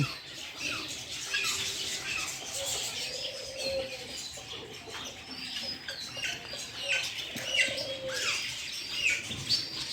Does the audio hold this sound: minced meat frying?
no